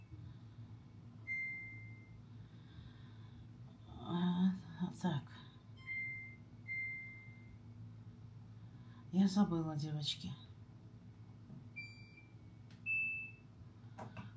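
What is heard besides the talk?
washing machine beeping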